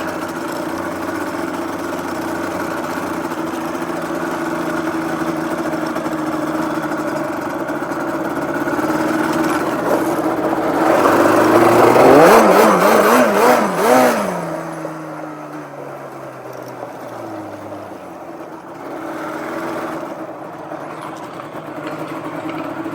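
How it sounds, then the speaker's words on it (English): A Yamaha Banshee ATV engine ridden in first gear around a house, idling and revving with a swelling pass that rises, peaks and falls away as the quad moves off and returns to a steady idle. "Take it around the house in first gear, put it into my shop."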